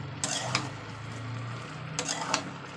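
Bottle gourd curry stirred in a pan, cooked without added water, with two pairs of scraping strokes of the spoon against the pan over a low sizzle and hum.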